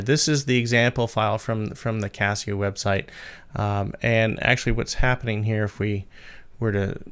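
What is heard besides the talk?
None of the usual background noises is heard.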